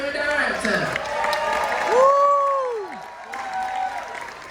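An audience on the Carnival Freedom cruise ship applauds and cheers. The clapping and crowd noise are fairly loud and continuous, with a voice talking over them.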